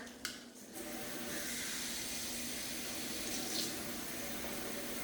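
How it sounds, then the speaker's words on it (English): Water runs steadily from a kitchen tap into a measuring cup while sloppy joes are being made. The stream is fairly quiet and continuous after a brief clatter at the start. No one speaks. "So I'm gonna get some water."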